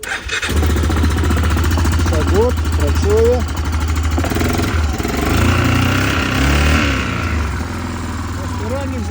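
A quad bike engine fires up after its overrunning starter clutch is replaced, catching abruptly and then running with an uneven, throbbing idle and revs while people talk over it.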